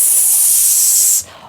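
A voice imitates loud white noise static, a steady harsh hiss held for over a second before cutting off abruptly.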